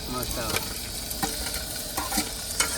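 Garlic, onion, tomato and chili frying in a pan in a truck cab kitchen, with a loud continuous sizzle and repeated scraping stirs and clinks of a utensil against the pan.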